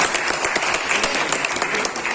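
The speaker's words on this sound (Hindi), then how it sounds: "जोरदार तालियां उनके लिए।" Dense audience applause fills a hall at an award and retirement ceremony held by a Garhwali kirtan mandal and Ramlila committee, steady and fairly loud throughout with no clear voices over it.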